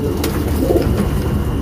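Pigeons at a pigeon-keeping loft cooing, soft low repeated coos close by against a steady background hum, with a brief sharp flutter near the start.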